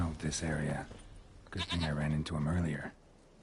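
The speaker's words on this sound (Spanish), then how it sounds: "Se va la cabra, ¿verdad?" A goat bleats loudly and repeatedly in The Witcher 3, with three long wavering cries close to the listener and no other sound between them.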